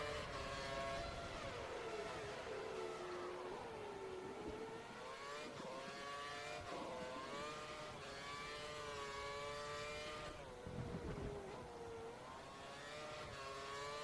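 Formula One race car engine in F1 2013 during Malaysian Grand Prix qualifying, a loud continuous high-pitched whine rising and falling through gear changes and corners, with a brief dip near the end.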